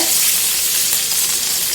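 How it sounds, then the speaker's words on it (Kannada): Garlic, curry leaves, mustard seeds and cumin hit hot tempering oil for a bitter gourd stir-fry, giving a loud, continuous, close-up sizzle and crackle with no talking. "ಈ ಥರ ಒಂದೊಂದ್ಸರಿ ಪಲ್ಯಗಳಿಗೆ ಬೆಳ್ಳುಳ್ಳಿ ಒಗ್ಗರಣೆ ಕೊಟ್ಟರೆ"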